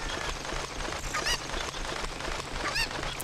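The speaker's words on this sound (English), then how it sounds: "And you're going to want to take this chicken." A Cucco chicken in The Legend of Zelda: Ocarina of Time gives two short, bright squawking clucks over a steady, busy game soundtrack.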